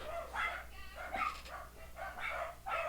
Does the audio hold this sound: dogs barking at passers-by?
yes